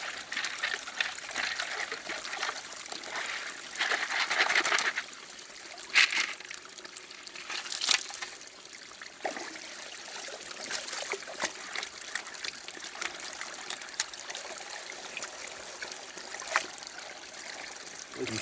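A small creek beside a road in the Stave region, where gold is being panned, trickles softly and continuously, faint and close, with occasional louder splashes of water.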